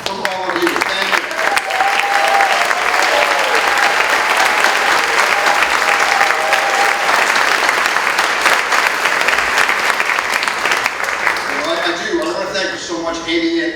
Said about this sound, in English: please stand and accept a warm round of applause from all of you.